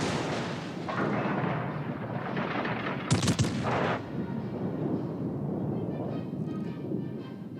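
Heavy battleship turret guns fire in a naval video game battle, a loud rumbling barrage with a sharp cluster of blasts midway over a continuous low roar of combat.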